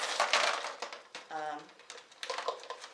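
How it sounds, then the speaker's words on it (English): Ice cubes clatter and crunch as they drop into a blender holding greens and water, a short burst of rattling knocks up close. "And then I'm going to add ice."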